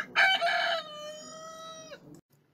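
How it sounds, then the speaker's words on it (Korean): A single rooster crows once near a residential apartment area by Wolgot Station, a bright, drawn-out cock-a-doodle-doo that rises sharply and then holds and fades, with quiet background afterward. "닭소리 한번 듣고 갈게요."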